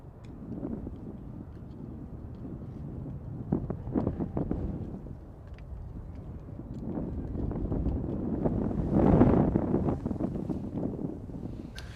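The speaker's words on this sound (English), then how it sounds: "The wind is biting." Wind blowing at Manchester Airport, a steady low rumbling buffet against the microphone that swells and gusts stronger toward the end, with no clear talk.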